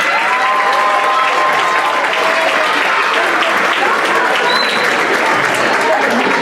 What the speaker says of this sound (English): Please join me in giving a big round of applause and welcome to Juanita Chavez.